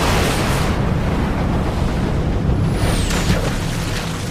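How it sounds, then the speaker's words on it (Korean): A wartime explosion tears through the escort carrier St. Lo after a kamikaze strike, heard as a loud, sustained roaring rumble mixed with churning sea wash throughout, with no voices. "11시 20분에 8번째 폭발이 터져나왔다."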